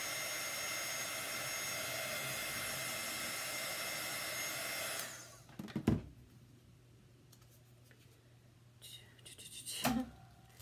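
Heat tool or dryer blowing steadily on a chalk paste design, a loud continuous whooshing rush that cuts off halfway, followed by quiet room tone with a couple of brief handling bumps.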